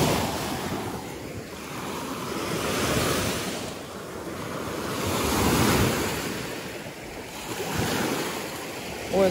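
Rough waves on Lake Baikal surge and break against the shore, rising and falling in steady swells with a constant wash of surf and some wind rumble, no voices.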